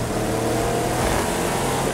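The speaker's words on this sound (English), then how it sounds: "Oh man, we got some muscle cars on this one now." A loud, continuous muscle car engine roar in a video game, with a rough, throaty drone, revving steadily with no pause.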